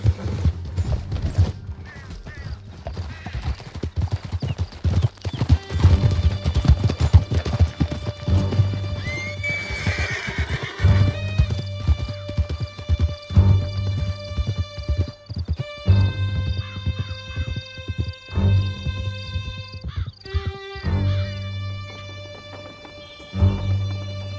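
Horses galloping hard in Red Dead Redemption 2, their hooves clattering steadily and close with sharp neighs and whinnies breaking through during a chase through a canyon, over a tense musical score.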